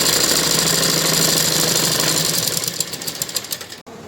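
Sewing machine stitching a blouse, a loud rapid mechanical rattle that runs steadily, then slows into separate stitches and stops abruptly.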